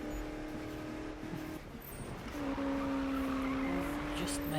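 Racing car engine in the Need For Speed video game, a steady sustained drone rising as the car accelerates, with a voice talking over it throughout.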